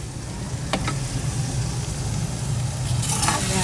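Scrambled egg sautés in a hot pan with a loud, steady sizzle and crackle, close by and continuous, with a couple of brief clinks partway through.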